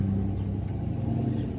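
Cars pass by outside on a windy day, a low steady rumble of road traffic at moderate distance, faint and continuous with no talk.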